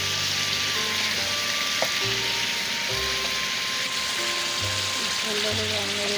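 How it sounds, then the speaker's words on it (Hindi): Chicken frying in a pan, a steady close sizzle running throughout with background noise and occasional soft kitchen sounds. "अल्हम्दुलिल्लाह अच्छी तरह चिकन फ्राई हो गई है"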